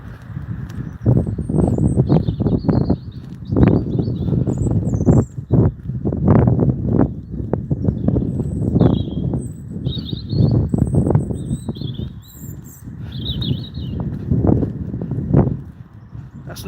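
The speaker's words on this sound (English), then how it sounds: "Birds are quite happy today," Birds chirp and tweet in short repeated calls, somewhat distant, on an early-morning walk, over louder low rumbling and thumping noises of passing cars close by.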